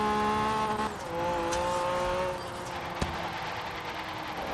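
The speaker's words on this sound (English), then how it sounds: "You hear those tires gripping?" A turbocharged Honda NSX engine in Forza Horizon 3 drones steadily with shifting pitch while tires hiss and squeal faintly against the track, close and continuous, with no voices.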